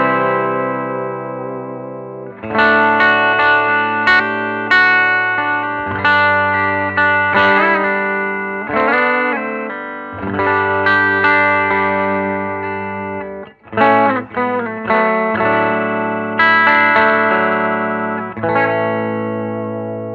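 Electric guitar chords through a 1962 Gretsch Executive amplifier at fairly low volume, with a gritty, distorted tone, strummed in bursts that ring out and decay between changes, and no voice over them.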